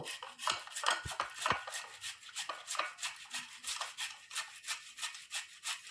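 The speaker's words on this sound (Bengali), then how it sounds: "এখন আমি এই আলুটা গ্রেট করে নেব।" A raw peeled potato is grated by hand, making a quiet, rhythmic series of rasping strokes at a steady pace, heard close up with no talking.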